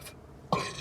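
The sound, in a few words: burp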